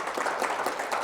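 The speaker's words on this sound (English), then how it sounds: "Let's give him a round of applause for that." A short burst of dense audience applause for John at a Joe Gibbs Racing master class, steady and moderately loud, with no voices over it.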